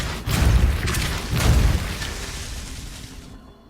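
A Depulso spell blast in the video game Hogwarts Legacy lands as two deep booming bursts in quick succession, then a rumbling tail that fades out, with no talk.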